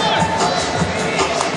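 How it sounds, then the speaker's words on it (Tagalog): Crowd at a pro basketball game, San Miguel supporters, applauding a defensive play: a steady wash of clapping and cheering from a large arena audience, continuous and fairly loud throughout. "the pro San Miguel crowd applauding that defensive effort"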